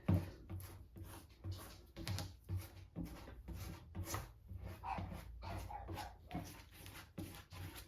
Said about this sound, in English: Okay, now my dog's gonna bark.